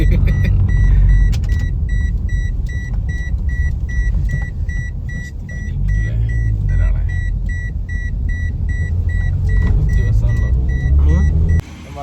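A car engine labors uphill in second gear on the climb to Kodikuthimala hill, giving a loud, steady low rumble that runs throughout, with repeated short electronic beeps over it.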